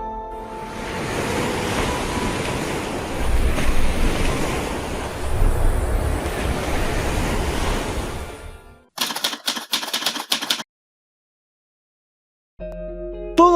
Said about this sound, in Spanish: un mar indomable, de olas que golpean con fuerza y vientos que parecen venir de otro mundo